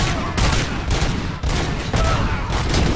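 Rapid gunfire from the Robocop Rogue City video game, a sustained loud fusillade of overlapping shots with a few short dips, close and dominant with no talk over it.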